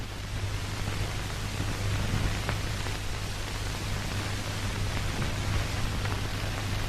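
Steady rain falls through an old black-and-white era Tamil comedy film scene, a constant hiss with a low hum beneath, even and unbroken throughout with no voices.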